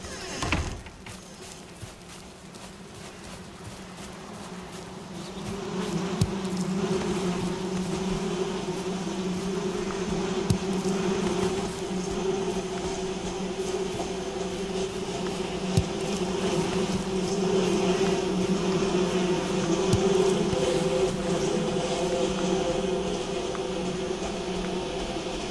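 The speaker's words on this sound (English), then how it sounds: "let's go check the bees" Bees buzzing around a hive in the video game Valheim, a steady continuous drone that holds without a break for over twenty seconds, with no talking.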